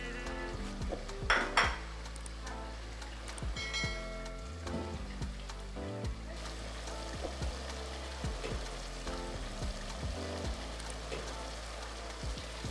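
Okra stew with mackerel being stirred in a pot, soft utensil clinks and scrapes against the pot over a faint low simmer, with a few sharper metallic knocks.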